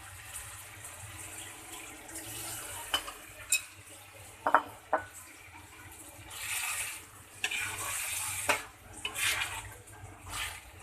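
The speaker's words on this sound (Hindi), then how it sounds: "इसमें हम थोड़ा पानी ऐड करेंगे ताकि दाल हमारी गल जाए।" Water poured into a pot of cooking dal for a hotel-style dal fry, with stirring, splashing and clinks of utensils in a busy kitchen over about ten seconds.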